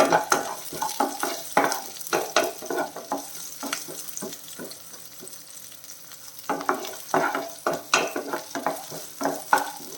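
Cumin, black pepper and shallots frying in a pan on an Indian stovetop, with close crackling sizzle and repeated scraping stirs, a quieter stretch midway before busy stirring resumes.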